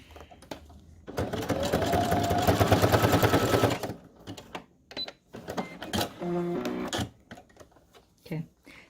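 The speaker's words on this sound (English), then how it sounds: "Okay, so I've rethreaded my machine and I'm just going to put this back on here and see if I can" A sewing machine stitches a fabric journal tag in a steady fast whirring burst of about three seconds, then shorter start-stop runs of stitching, near and loud, with a person talking in between.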